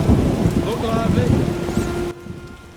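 A steady downpour hisses in a thunderstorm in The Witcher, with a low rumble of thunder beneath the rain and brief voices over it, the storm dropping off abruptly near the end.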